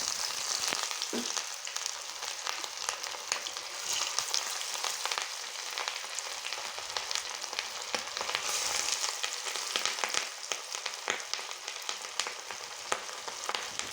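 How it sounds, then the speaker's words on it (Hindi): Beef shami kabab patties fry in hot ghee with a steady, close, bright sizzle and crackle that persists throughout, with faint scraping and occasional soft pops, no voices. "घी हमारा गर्म हो चुका है। अब हम डालते हैं इसमें अपनी टिक्की।"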